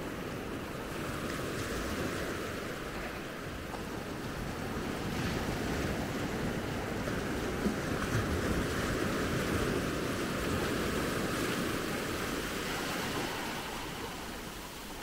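Small, gentle ocean waves wash continuously onto the beach at Maspalomas, a steady, soft surf with light wind rumble across the microphone.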